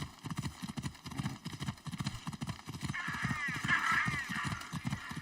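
Horse galloping in Assassin's Creed Odyssey, quick rhythmic hoofbeats pounding steadily throughout, with a brief whinny-like tone partway through and no talking over it.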